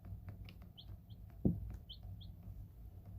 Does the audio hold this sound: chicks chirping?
yes